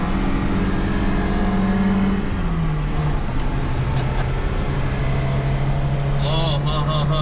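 A Lada's engine strains uphill on the Nürburgring circuit with a steady, loud drone whose pitch dips and then holds, while people talk over it.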